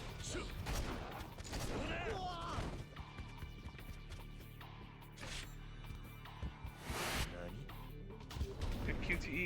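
Pistol shots and clashing hits from the gun fighting style in Like a Dragon: Ishin! come in repeated bursts over game sound, with voices mixed in.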